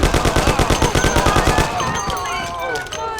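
Gunfire in the classic Mafia game, a rapid regular string of loud close shots lasting over a second, then fading into shouting and chaotic noise.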